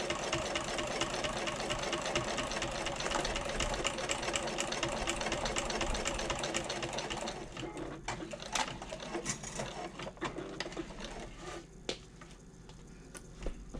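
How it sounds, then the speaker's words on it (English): A sewing machine runs continuously while sewing across the bottom of a slip/zip pocket on a convertible bag, then stops, leaving scattered light ticks and handling sounds. "Pivot at the bottom and sew across the bottom at a 1/4 inch"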